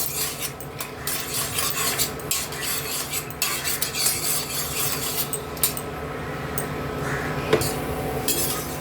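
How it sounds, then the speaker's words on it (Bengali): Peanuts frying in hot oil in a pan, a steady dense crackle and rustle with repeated scraping and stirring against the pan, close and continuous, with no voices. "তেলটা গরম হয়ে গেছে, আমি কিছু বাদাম ভেজে নিচ্ছি এর মধ্যে"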